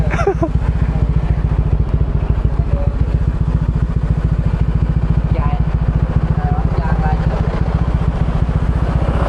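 A Honda PCX scooter engine runs close by with a steady, fast, even pulsing putter that holds a constant loud level throughout.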